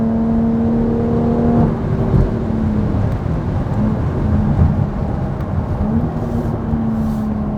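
Supercharged Jaguar F-Type P380 engine accelerating hard in dynamic mode, a loud rising whine that drops at a gear change and climbs again, with rough rumbling texture throughout.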